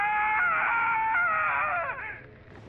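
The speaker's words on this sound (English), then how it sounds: "There's a lot of screaming in this game." High-pitched wavering screaming rings out in The Evil Within horror video game, one sustained strained cry with shifting pitch that fades near the end, loud and close with no talking.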